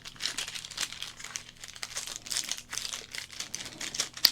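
Plastic wrapping on 1991 Fleer football card packs is crinkled close up in quick, irregular bursts of crisp rustling, with no speech.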